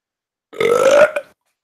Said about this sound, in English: burp of the day, burp of the live stream